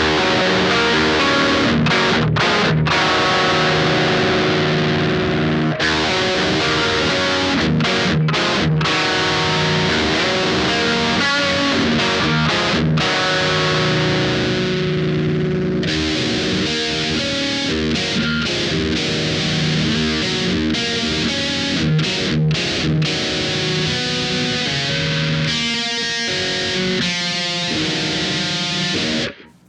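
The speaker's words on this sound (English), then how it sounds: "if we wanted to scoop the mid-range or attenuate mids, we could start at noon and then go down from there" Electric guitar played through an Electric Love Aquatone pedal with the mid-range scooped, a dense, continuous run of strummed chords and picked passages with brief pauses, loud and close with no talking.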